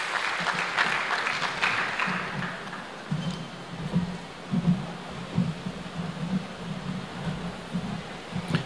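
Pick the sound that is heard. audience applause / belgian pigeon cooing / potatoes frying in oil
audience applause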